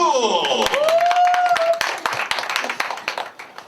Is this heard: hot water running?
no